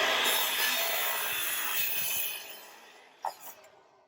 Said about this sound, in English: use the compound miter saw to cut 5 at a time